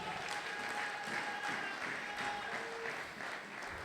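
Church congregation applauding during a Sunday worship service of praise and thanksgiving, steady sustained applause filling the room, with faint tonal music or voices underneath.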